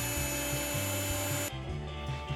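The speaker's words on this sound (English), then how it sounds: "I drilled out a hole for the eye using a Forstner bit." A Forstner bit bores a hole in a plastic capsule piece, producing a steady close grinding drone with a rhythmic rubbing pulse, and the drive's pitch drops partway through.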